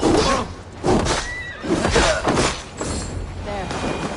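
A horse in the video game Assassin's Creed Valhalla whinnies and snorts several times in quick succession, loud and close, with a voice mixed in.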